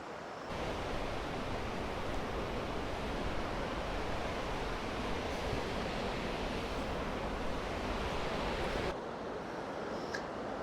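A river in Molonglo Gorge rushes past in a steady, broad wash of flowing water, close and continuous, dropping away sharply near the end.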